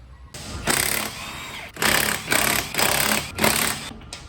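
An impact wrench tightens the suspension top mount on a Toyota Supra, firing in several loud rattling bursts of about half a second to a second each, separated by brief pauses, close up.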